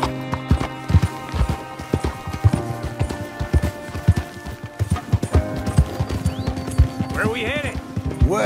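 Horse hooves galloping in the Red Dead Redemption 2 video game: rapid, close clip-clop beats in a steady running rhythm with a brief whinny near the end, under game music and spoken dialogue.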